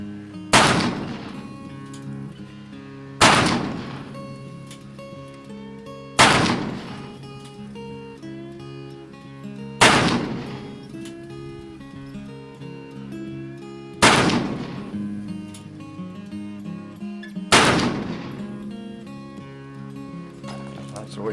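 Six loud shots from an out-of-the-box Pietta black powder revolver, each loaded with 21 grains of 3F Goex and a .451 round ball, fired at an even, slow pace with booming reports that ring out and decay between shots.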